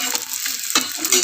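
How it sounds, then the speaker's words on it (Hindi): Edible gum (gond) fries in hot ghee with a steady close sizzle and bubbling hiss, broken by brief stirring scrapes. "इस तरह से ये गोंद जो है इसको फ्राई करके निकाल लेते हैं"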